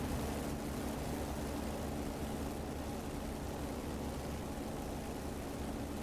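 A Corsair plane's engine in a flight video game drones steadily and evenly throughout, a faint continuous hum with no voices.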